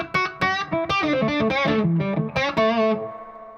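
An electric guitar is picked in a bright run of distorted notes through amp reverb layered with further reverb effects. The notes sound close and loud, then ring out into a spacious tail with no talking.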